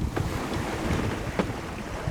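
Sailboat underway at sea, heading out toward the Gulf Stream on the passage from Miami, with a continuous rush of wind and water washing along the hull and a few soft splashes and slaps.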